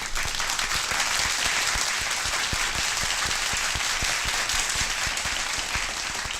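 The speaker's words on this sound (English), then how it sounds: "Round of applause for the chat, please." A round of applause during a live MMA talk stream, a continuous dense wash of clapping with sharp individual claps standing out, steady and loud throughout with no talk over it.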